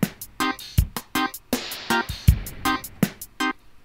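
A blipping synth riff runs over Ultrabeat dub drums, with punchy low kicks and crisp hi-hat ticks driving a steady groove while short bright synth stabs repeat on the beat.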